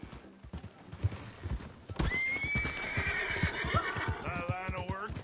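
A horse in the Red Dead Redemption 2 video game clip-clops along with rhythmic hoofbeats, then lets out a loud, drawn-out neigh that wavers and trails off, close and clear.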